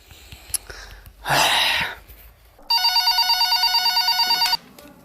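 A telephone rings in a steady repeating electronic trill for about two seconds, clear and fairly close, following a short sneeze-like burst of noise, while a man calls a friend to book a trip.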